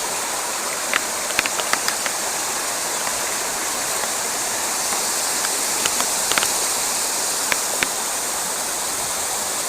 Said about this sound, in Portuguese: Cachoeira do Licuri.